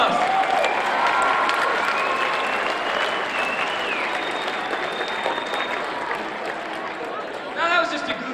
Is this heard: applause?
yes